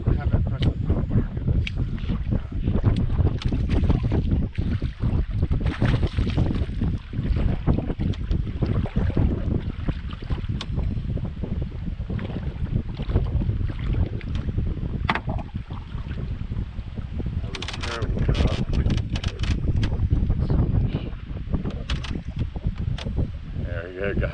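Strong wind gusts across open lake water around an anchored bass fishing boat, a loud, steady roar of buffeting broadband noise that barely lets up for the whole stretch.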